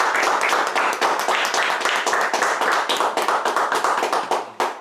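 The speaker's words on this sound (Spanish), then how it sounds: "Dale un aplauso al Señor" Applause from a church congregation during a sermon, a close, energetic burst of many hands clapping with distinct sharp claps, continuing steadily and ending on a final clap.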